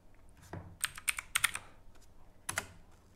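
Quick bursts of keystrokes on a computer keyboard, a short run of close, crisp clicks followed by a couple more taps after a pause, with no voice.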